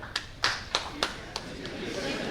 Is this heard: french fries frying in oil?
no